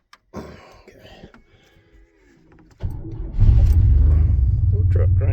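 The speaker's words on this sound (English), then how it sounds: "Little truck cranks right up. Runs good." Old 1961 Chevy 4x4 truck engine cranks briefly and catches, then settles into a loud, steady low rumble of idling, with talking heard just before it starts.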